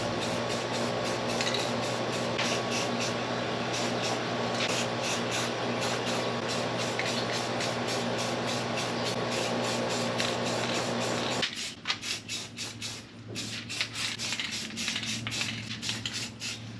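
Spray finish coat going onto a guitar kit body: a steady, loud continuous hiss with a motor-like drone underneath, running unbroken for about eleven seconds, then cutting off into quieter, uneven shuffling and brief spurts.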